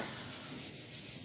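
Steady, dry rubbing of an eraser or cloth wiping a drawing off a board, a continuous close scratchy swish with no pauses or talking.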